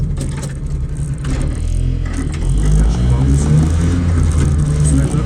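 A Piaggio Ape three-wheeler's small engine drones and rises as the vehicle pulls away, a close, loud, rough mid-pitched hum that swells slightly over a few seconds.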